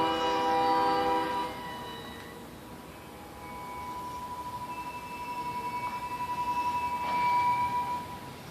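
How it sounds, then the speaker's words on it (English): A loud train horn blasts at the start as a train passes during a lightning storm, followed by a steady rumbling rail roar with fainter sustained horn tones drifting through the middle and end. "This train's honking and stopping."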